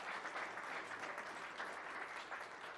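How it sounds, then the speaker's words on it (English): Steady applause from an audience at a VEX robotics competition, a dense wash of clapping hands that continues evenly throughout. "Let's give them a big round of applause to all parents, grandparents, siblings, everyone."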